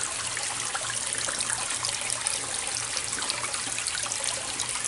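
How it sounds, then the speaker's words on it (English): Two small waterfalls spill over set stones at the end of a little garden stream, giving a steady, close, continuous trickle and splash with no voices. "I have these two little waterfalls here at the end of the little river here."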